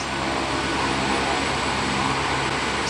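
Helicopter lifting off and leaving after federal police agents board, beside a gold-mining pit in Yanomami territory in the Amazon; a loud, steady rotor and engine roar fills the whole stretch without pause.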